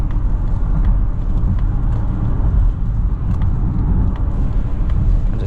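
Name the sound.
2023 Mazda CX-50 GT Turbo driving on highway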